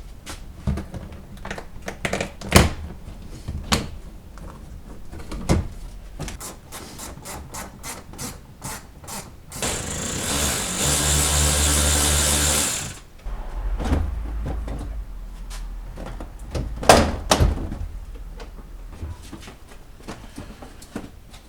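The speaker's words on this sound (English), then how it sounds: "we're going to go ahead and have to pull this door panel off" A Cadillac door panel being pried and pulled off, with scattered sharp plastic clicks and pops, a sustained scraping rub in the middle and more snapping clips after, close up and without talk.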